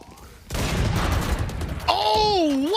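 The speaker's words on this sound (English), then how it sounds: "what was that shot out of Sugetsu?" A sudden burst of gunfire erupts in a Valorant match on the map Split, loud and sustained for a couple of seconds, with a voice rising over the tail of the shots.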